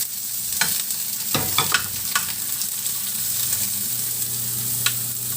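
Sliced onions sizzle and fry in a pan, a steady hiss with occasional clinks and scrapes of a utensil stirring them, close and moderately loud.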